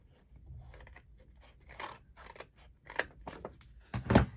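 Scissors cutting paper for an Easter journal page, with several short snips and crisp rustles close by, ending in a louder cut.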